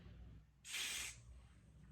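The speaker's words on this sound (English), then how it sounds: "I'm gonna spray." Hair spray sprayed onto a wig closure, a single close, bright hissing burst lasting about half a second, then fading to quiet room tone.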